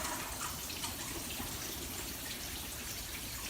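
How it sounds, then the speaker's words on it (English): Water streams steadily into the soil of a large potted indoor plant, making a continuous close splashing and trickling rush without pause. "Usually how you water is you water until you see water coming out the bottom."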